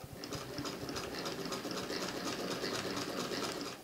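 A Jones Model CS antique sewing machine, about 120 years old, running steadily as it sews stitches, with a fast, even mechanical clatter and rattle throughout, close and continuous, no voices.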